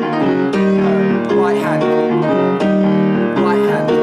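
A boogie-woogie piece on piano, played with both hands: a rolling boogie-woogie bass under repeated right-hand chords and runs, loud, busy and continuous throughout.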